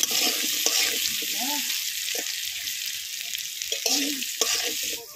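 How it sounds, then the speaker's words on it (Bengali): Spices fry in a pan with salt and turmeric as they are stirred, giving a loud, continuous sizzle with scraping stir strokes close by. "লবণ হলুদ দিয়ে একটুখানি নাড়িয়ে নেব।"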